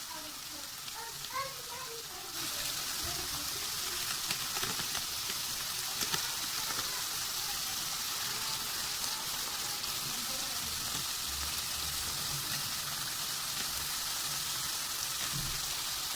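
Chicken and potatoes frying over high heat for aloo chicken shorba, a steady broadband sizzle running continuously and fairly loud throughout, with faint clinks at the start.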